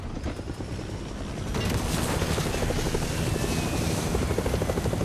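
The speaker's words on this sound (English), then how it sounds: "I'm getting the heli" Helicopter in a video game: a loud, steady rotor chop and turbine whine that grows stronger after the first second and holds for several seconds, with a few faint booms in the background.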